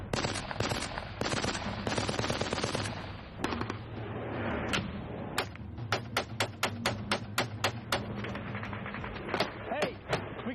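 Gunfire on a hillside during combat in Afghanistan, first dense bursts of automatic fire, then a series of sharp single shots and short volleys, loud and close.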